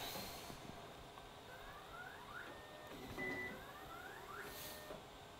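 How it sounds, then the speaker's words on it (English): A Da Vinci Pro 3D printer powers on with a sequence of rising electronic beeps and tones over a steady fan hum, fairly quiet and close, with no talking. "So I switch off the printer"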